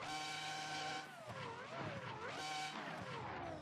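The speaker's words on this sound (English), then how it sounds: "That V8 or V10 scream, whichever it is, again, I can't tell the difference." A Ferrari F1 concept car in Assetto Corsa screams past with a high, harmonically rich engine wail that dips and swoops through gear changes and Doppler shifts, loud and sustained throughout.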